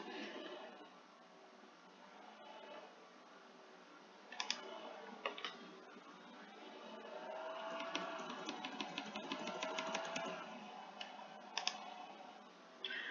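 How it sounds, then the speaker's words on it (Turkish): Someone types an email address on a computer keyboard, producing faint scattered key clicks that turn into quicker bursts of tapping midway, under a muffled voice. "Daha sonra buraya herkes için e-posta adresimi yazıyorum."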